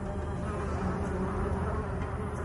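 Steady, dense buzzing of a honey bee colony, a continuous low drone of many insects with no pauses, fairly close and even in loudness.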